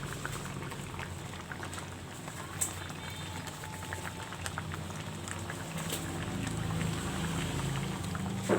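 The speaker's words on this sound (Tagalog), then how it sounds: "Kumukulo-kulo na ang ating second squeeze na gata." A pot of coconut milk simmers, with steady soft bubbling and occasional pops, close by and fairly quiet.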